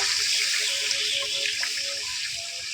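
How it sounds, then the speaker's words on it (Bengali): Water poured into a pan of fried spices while cooking a tomato bora curry, a steady close splashing gush that fades slightly toward the end, with no talking. "এখন আমি পানি দিলাম পরিমাণ মতো"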